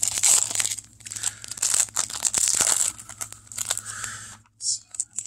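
The foil wrapper of a Marnie trading card promo pack tears and crinkles up close in quick bursts of ripping and crackling plastic, with brief pauses between.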